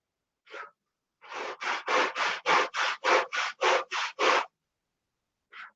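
Hand sanding with 80-grit sandpaper: about ten quick, evenly spaced rasping strokes in a rhythmic run, loud and close, with a single brief rub before and after and silence in between.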